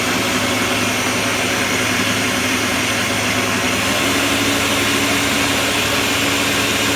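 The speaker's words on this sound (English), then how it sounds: "So I'm going to blend it for about 35 seconds." A blender runs continuously at full power while blending aloe vera juice, giving a loud, close, steady motor whir with a dense grinding hiss and no pauses.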